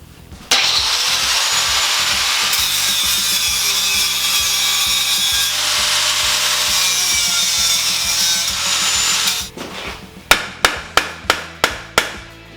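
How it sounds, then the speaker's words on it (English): A power grinder cuts out weld points on a Maxim XJ650 motorcycle muffler tube, a loud continuous whine for about nine seconds, followed by a series of sharp, evenly spaced metallic taps. "I'm wondering if I grind those out, if I can get this part out."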